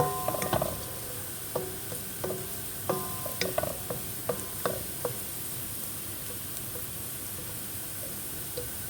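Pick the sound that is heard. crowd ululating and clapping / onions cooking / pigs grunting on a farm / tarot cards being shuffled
onions cooking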